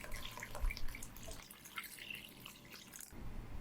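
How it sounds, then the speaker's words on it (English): Four cups of water pour into a homemade Lebanese lemonade mixture, a steady close splashing stream that runs continuously and loudly before dropping off near the end. "you have to add 4 cups of water"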